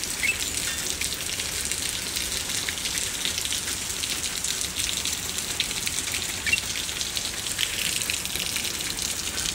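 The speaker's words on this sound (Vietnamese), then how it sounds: "Đúng là nhột mưa, mưa rơi tí tét, mưa rơi róc rách." Steady rain falling in Texas, around San Antonio and Austin, with a dense, even hiss of drops on surfaces and a few louder splats, continuous and moderately close with no voices.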